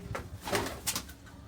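Adult pigeons coo softly inside their loft in low, rounded calls, fairly quiet and a little distant.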